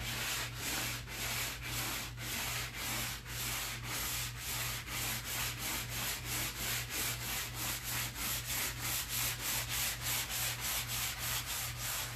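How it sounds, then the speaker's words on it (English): Steady back-and-forth scrubbing of 80 grit sandpaper on a wooden piece, rhythmic strokes that quicken toward the end, close and continuous over a low constant hum, with no talking. "I'm sanding it first to get it"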